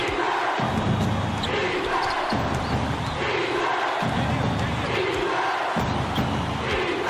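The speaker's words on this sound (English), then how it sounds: "This crowd is going insane." Loud crowd roar fills an arena in College Basketball 2K8, a continuous surging wall of cheering with rhythmic ball bounces and squeaks underneath and no voices rising above it.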